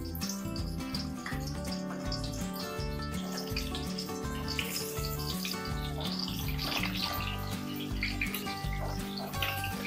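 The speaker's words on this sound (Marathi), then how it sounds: "तेल चांगलं कडल्यानंतर आपण यामध्ये एक एक मिरची अशी" Stuffed capsicum peppers sizzle steadily in hot oil in a pan, with a continuous hiss and crackle that does not let up.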